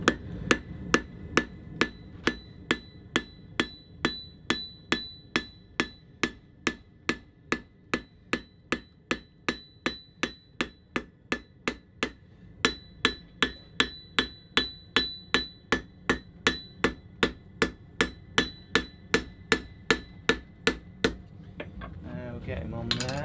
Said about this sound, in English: we hammer them all over to give them that hammered texture